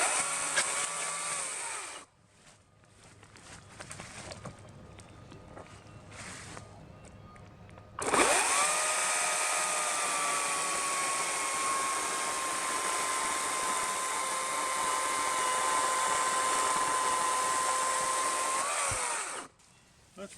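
A Ryobi 40V 20-inch electric chainsaw cutting through a sound, non-rotten tree: a short burst and pause, then a steady loud whine from about eight seconds that holds evenly until it stops near the end.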